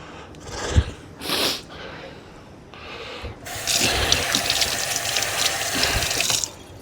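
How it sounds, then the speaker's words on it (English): A kitchen tap is turned on and runs in a steady splashing stream for about three seconds while hands are rinsed under it, after a few brief clatters and rustles. "Rinse my hands off quick."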